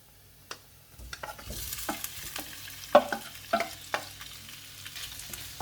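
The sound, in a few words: shrimp added and stirred in frying pan with garlic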